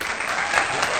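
A brief burst of audience applause, dense steady clapping from a crowd filling the whole second at a moderate level.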